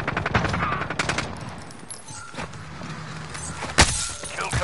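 Gunfire in Call of Duty: Warzone rings out as rapid automatic bursts and single loud shots, close and dense at first, then sparser shots with one sharp crack near the end.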